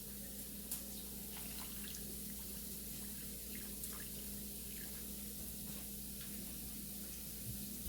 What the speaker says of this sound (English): And now I'm going to add water to the 3.